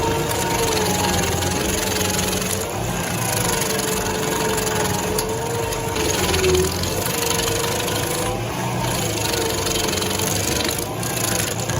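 A giant stump grinder shreds tree stumps into wood chips with a continuous, loud engine drone overlaid by dense crackling and splintering, steady throughout.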